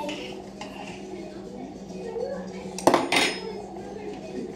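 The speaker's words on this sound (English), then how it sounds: "give this a quick stir" A pot gets stirred on a home stove, with soft background kitchen noise and then a couple of sharp metal clinks of spoon against pan near the end.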